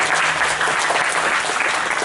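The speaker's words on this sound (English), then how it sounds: "So a round of applause there for the 4M class." A school class group at a TY celebration being applauded, dense, loud clapping from a crowd that fills the short stretch without a break.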